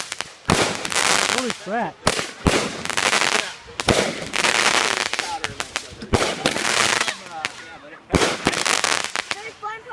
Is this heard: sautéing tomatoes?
no